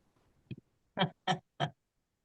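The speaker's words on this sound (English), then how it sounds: "I'm listening to my parrots in the background and they're chattering away" Pet parrots call in the background, one short squawk followed by three louder, evenly spaced honking squawks in an otherwise quiet room.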